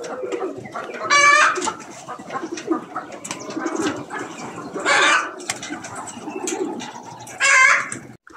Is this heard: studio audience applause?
no